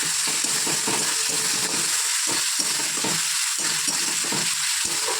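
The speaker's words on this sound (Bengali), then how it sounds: "আর এই যে মশলাটা ভাজছি" A spice paste sizzles and spits steadily in a pan as jackfruit curry is cooked, with irregular stirring scrapes breaking through a constant hiss, close and fairly loud.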